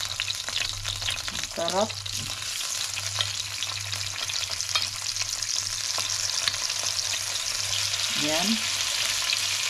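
A second batch of salmon fries in a pan with a steady, close sizzle throughout, while a voice speaks briefly over it twice.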